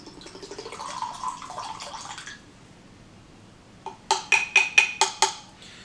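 Peach brandy pours into a glass in a steady stream for a couple of seconds, then stops, followed by several sharp clinking taps of glass, close and clear.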